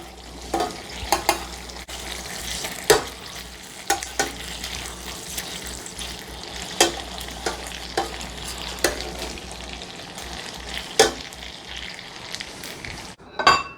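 Potato pierogi fry in butter in a pan with a continuous close sizzle, punctuated by repeated clinks and taps of a utensil turning them, with a sharper clatter at the end.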